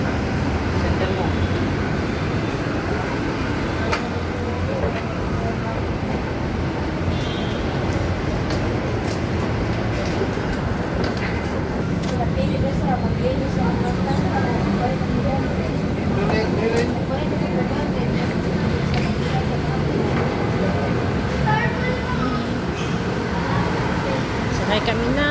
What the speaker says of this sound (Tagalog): Sakay kami ng LRT.